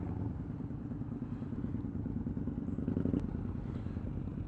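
A motorcycle from a group ride rolls past at Detroit Lake, a continuous low engine rumble that swells slightly as it nears, heard at moderate distance with no talk.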